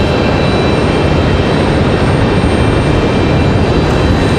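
A Breeze Airways airliner near Raleigh-Durham airport, a loud, continuous broadband engine roar that stays steady and close throughout.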